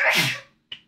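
One loud, close sneeze bursts out and fades, followed a moment later by a short faint sniff or breath.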